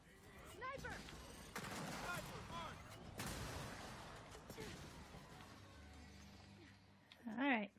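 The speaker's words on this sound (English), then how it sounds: "Fire two shots. I hit somebody with both shots." Gunshots from the video game Gears of War 4 ring out in a few loud bursts amid game noise, with someone talking over parts of the firing.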